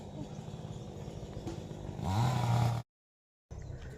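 A saw cutting wood beside a roadside, heard as a steady droning buzz amid outdoor noise, rising louder toward the end before a sudden dropout and return.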